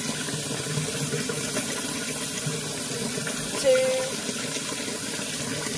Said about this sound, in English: So I'm just going to run the tap, excuse the noise